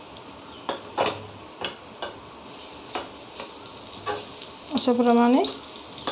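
Kofta made from bottle gourd fries in a pan and is flipped. A steady close sizzle runs through the clip, broken by several short scraping turns, with someone speaking briefly near the end.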